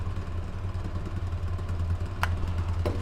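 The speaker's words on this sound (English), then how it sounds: "you can hear the motor slow down just a little bit" A homemade beginner pulse motor runs under generator load driving a light, a steady low rhythmic drone with fine repetitive pulsing, punctuated by a couple of sharp clicks near the end.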